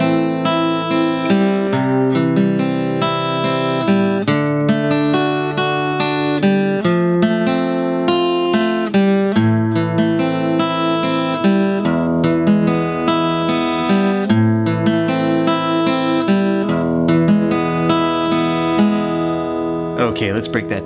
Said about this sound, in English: We're going to get started with a full demonstration of the intro